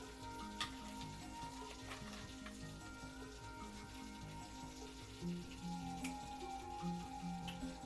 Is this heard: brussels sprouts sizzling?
yes